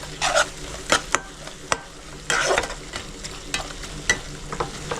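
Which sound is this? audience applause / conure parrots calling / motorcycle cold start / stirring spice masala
stirring spice masala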